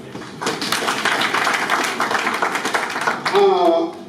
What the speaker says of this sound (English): Why don't you give him another clap?